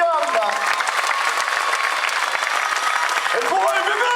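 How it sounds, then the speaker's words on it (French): Dense, continuous applause from a crowd greets the podium finishers at a rally in Orthez, loud and sustained with a few voices mixed in. "On peut l'applaudir, ce superbe podium."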